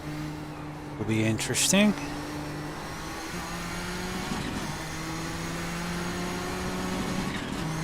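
Audi race car engines in the iRacing sim, a steady, fairly loud engine drone that rises and falls in pitch with shifts. A short burst of other game sound comes early, and someone talks briefly.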